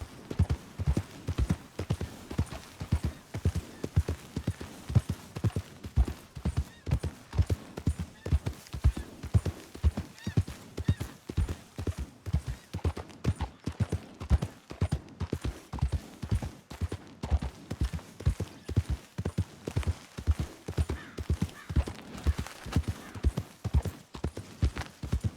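Horse hooves clip-clop in Red Dead Redemption 2, a steady, even rhythm of close, distinct hoofbeats continuing throughout at a relaxed walking or trotting pace, fairly quiet overall.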